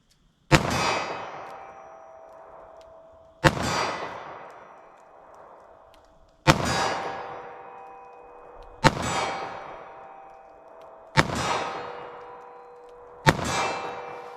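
A compact .38 Special handgun fires six sharp shots at a target 25 yards away, each report a few seconds apart with a ringing decay between them.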